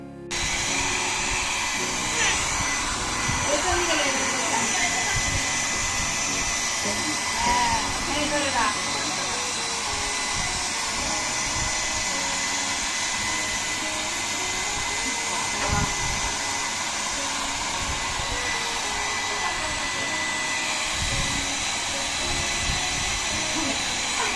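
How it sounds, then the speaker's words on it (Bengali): A child drying her own hair with a hair dryer: a constant, close whooshing blower roar that runs unbroken for the whole stretch, with faint voices now and then. "ও নিজে নিজে হ্যাড ড্রায়ার দিয়ে চুল শুকনো করছে"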